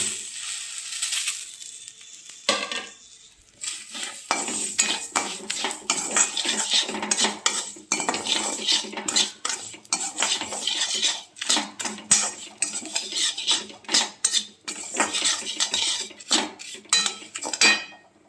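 A metal spoon scrapes and clatters against a pan while fried lentils are stirred into a masala, busy irregular clinking and scraping up close for most of the time.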